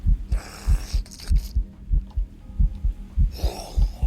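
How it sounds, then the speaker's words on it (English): A game's heartbeat sound effect in Mop of the Dead thumps in a steady, loud, close double-beat rhythm, about a dozen beats, with faint whooshing bursts and brief hiss between them. "I guess because I'm hearing the heartbeat thing."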